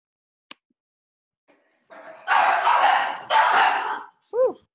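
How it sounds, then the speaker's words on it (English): Pet dogs bark in two loud bursts after a few faint clicks, finishing with a short high yip, close and clear with no talk over them. "Joni, your doggies."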